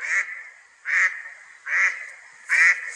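A duck quacks in four short, loud bursts spaced about a second apart, with nothing else heard between the calls.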